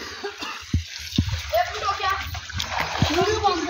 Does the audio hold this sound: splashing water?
yes